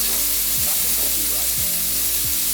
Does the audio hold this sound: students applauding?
no